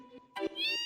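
A house cat meows twice in quick succession nearby, a short plaintive cry followed by a longer rising one, heard clearly over a quiet electronic hum.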